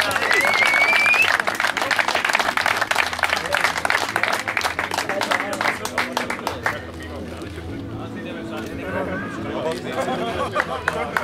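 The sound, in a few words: applause at a tournament award ceremony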